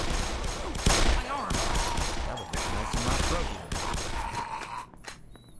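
Bursts of allied gunfire ring out in the Black Mesa video game, rapid shots layered over game sounds, with a person talking over the action.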